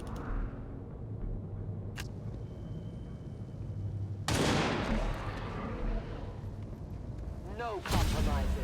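Opening volleys in an intergalactic war strategy game: two sharp heavy blasts several seconds apart, each with a booming tail, over a steady low background of rumbling battle sound, with voices talking in the mix.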